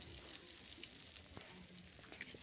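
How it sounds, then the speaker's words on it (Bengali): Neem leaves and chopped onion frying in hot oil in a heated wok, a steady quiet sizzle with faint crackles and pops throughout and no voices. "নিম পাতাটাকে একটু সামান্য পরিমাণে ভালো করে ভেজে নেব"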